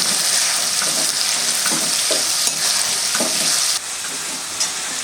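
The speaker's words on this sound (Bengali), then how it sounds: "এই বাটাটা আমি পুরোটা দিয়ে দেবো। এটা আমি একটু কষে নেব।" Ginger-garlic paste with green and dried chillies sautés in a pan with a loud, continuous close sizzle, broken by occasional stirring scrapes, dropping a little in level near the end; no talking.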